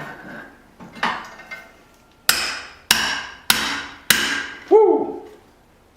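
Hammer blows ring on hot steel over an anvil while a leaf spring cleaver is forged and its hole expanded; a few softer taps, then four loud evenly spaced strikes and a final ringing clang, close and alone without talk.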